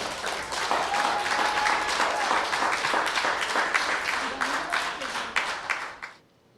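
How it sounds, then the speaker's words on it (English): An audience applauds after a performance at a spoken-word cafe show, with steady, full clapping from many hands that continues for several seconds before cutting off abruptly. "Can we give them another big round of applause?"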